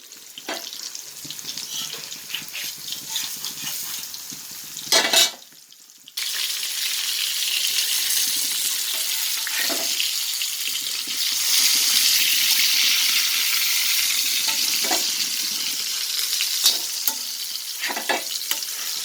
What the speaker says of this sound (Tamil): தேங்காய் எண்ணெயில் செஞ்சிட்ருக்கேன் சீலா மீன் ரோஸ்ட்டு